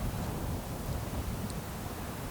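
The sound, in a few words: strong wind blowing outdoors, about 8 m/s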